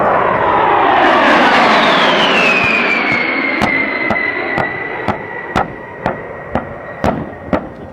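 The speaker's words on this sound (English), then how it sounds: "B-52." A B-52 bomber passes overhead at the 2009 Edwards AFB air show, a loud jet roar whose whine sweeps downward as it goes by, followed by a series of sharp, evenly spaced clicks near the end.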